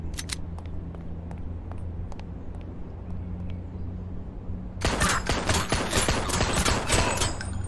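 Gunfire in a zombie shooter video game: quiet engine hum with a few scattered shots, then a sudden loud run of rapid, close shots that rattles on without pause.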